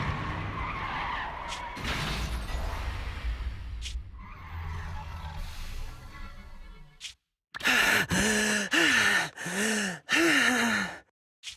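In the video game Zenless Zone Zero, a truck's tires skid and screech toward a crash, a long harsh squeal followed by a cut to silence and a run of gasping, sighing voice sounds.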